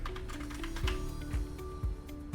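Computer keyboard typing while entering a short mark into a data-entry form: quick, light key taps in an irregular run with a few stronger strokes, close by, over a steady low hum and no talk.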